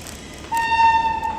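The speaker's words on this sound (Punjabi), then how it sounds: "ਇੱਧਰ ਟ੍ਰੇਨ ਆਈ ਖੜੀ ਆ ਬਾਈ" At a station, a single steady horn-like tone from an arriving train starts abruptly partway through and holds at moderate loudness over quiet background.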